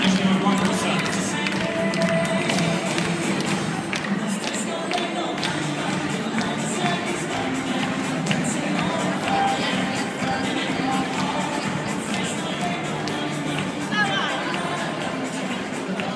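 At a winter ball, the audience claps for a long stretch, a dense, even patter of many hands with crowd murmur beneath it.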